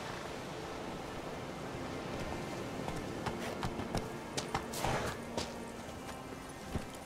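A horse's hooves thud in an uneven galloping rhythm in The Witcher 3, faint and somewhat distant over a steady wash of ambient wind-like noise.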